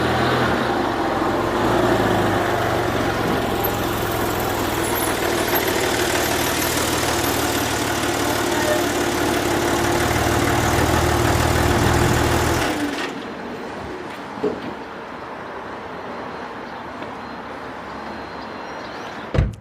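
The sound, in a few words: Porsche 996 GT3 Mezger engine idling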